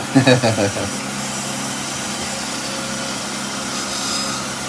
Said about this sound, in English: I'm not going to stop the lathe just yet